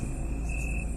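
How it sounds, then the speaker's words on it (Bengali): Crickets chirp at night in a continuous high, thin trill over a low, steady background hum, faint and unbroken for about a second. "আর ঝিঝি পোকার ডাক"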